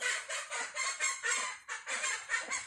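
A green white-tailed fighting rooster clucking close by, a run of rapid, rhythmic raspy clucks in short bursts, fairly quiet and alone.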